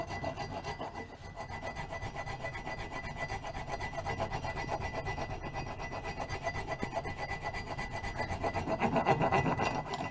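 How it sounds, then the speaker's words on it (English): A rasp files steadily along a handmade wooden axe handle, its close, continuous scraping strokes running rough and even throughout. "rasping to do here"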